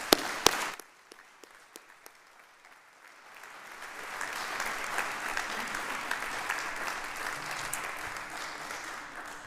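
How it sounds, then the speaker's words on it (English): A ceremony audience at a senior awards and scholarship program applauds the event organizers; a few sharp claps open, then a dense, steady wave of clapping swells and continues in a large room. "so let's give those ladies a round of applause"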